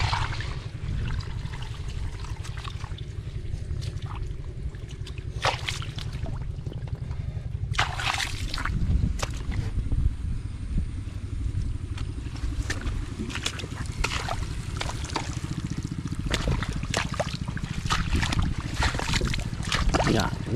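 Water gushes and trickles steadily through a homemade irrigation channel, a continuous close-up flow with occasional splashes and clicks.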